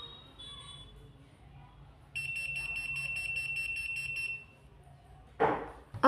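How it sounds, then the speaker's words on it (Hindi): A Devil Will Cry spy cam detector bursts into a rapid, high-pitched electronic beeping as it is brought near a magnet. The beeping runs for about two seconds over quiet room tone, then stops and is followed by a brief handling noise. "आप देख सकते हैं इसके पास आते ही बीपिंग शुरू कर देते हैं।"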